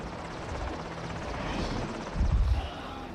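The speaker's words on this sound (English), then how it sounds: "Oh, that's why I hear a helicopter," A helicopter drones steadily in the open world of the video game Avatar Frontiers of Pandora, a low rotor rumble that swells louder for a moment near the end.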